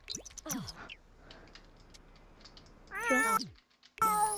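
Two short, high cat meows from a cat in the video game The Sims 4 stand out, one early and a louder one near the end, over quiet clicking and faint background sounds.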